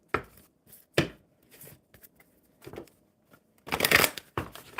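A deck of tarot cards is shuffled in short, crisp bursts, ending in one louder riffle near the end; the room is otherwise quiet.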